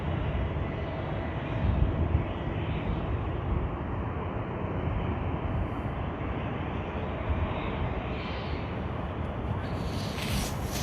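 A jet airplane roars steadily as it takes off from the runway at Sydney Airport, a loud, sustained engine rumble holding through the whole stretch with a rising whine near the end.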